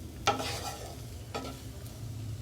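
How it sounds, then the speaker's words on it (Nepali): Macaroni fries in a pan with a steady soft sizzle, and two distinct scraping stirs break through it near the start and middle. "2 मिनट जति यसलाई भुट्ने, फ्राई गर्ने"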